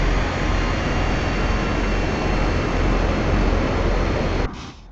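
Steady, loud airplane engine drone inside a flight simulator game, a continuous broadband roar that holds evenly for most of the stretch before dropping abruptly to a quieter hum near the end.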